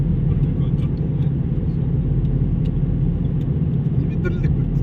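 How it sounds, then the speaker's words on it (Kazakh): A car rumbles and vibrates while driving along a road, a steady loud low engine and road drone running continuously. "Машина тірілдеп келе жатыр ғой"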